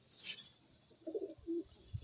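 A pigeon gives a couple of soft, short low coos close by, separated by quiet gaps, with a faint higher chirp at the start and no talk.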